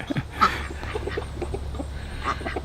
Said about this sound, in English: There's my wife feeding the chickens.